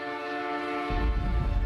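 A steady, harmonic train horn from the Apollo Justice video game, from the case set on rails, sounds loud and sustained throughout, with a low rumble joining it partway through.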